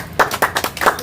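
Audience clapping: about four sharp hand claps in a quick, fairly even rhythm, close and moderately loud, with a faint voice underneath.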